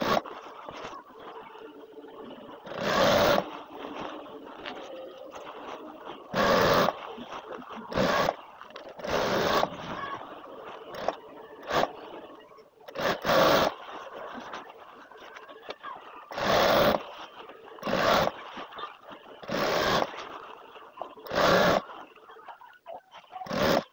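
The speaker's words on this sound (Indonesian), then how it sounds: "Oke, kita lanjut jahit." A high-speed sewing machine stitches a hijab in repeated bursts of whirring motor noise, each a second or two long, separated by short quiet pauses. The machine is close and loud, with no speech over it.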